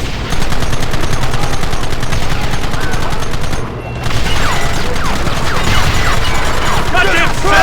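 Heavy continuous gunfire rattles through a frantic Red Dead Redemption wagon chase against attackers in rocky terrain, dense rapid shots with a brief lull midway, loud and close, with voices shouting over the shooting.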